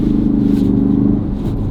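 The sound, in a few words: Ford Focus RS engine at full throttle in deep snow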